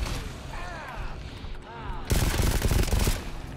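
Rapid gunfire from GTFO erupts in a dense, loud burst over the second half, following quieter in-game ambience and brief voice chat.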